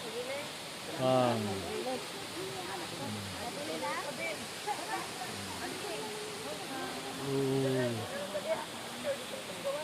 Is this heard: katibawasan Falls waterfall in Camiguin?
yes